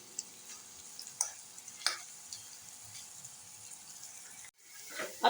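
Chutney ingredients for a momo chutney frying in oil, a faint, steady sizzle broken by a few sharp scrapes and clatters as pieces are turned over in the pan, close by with no talk.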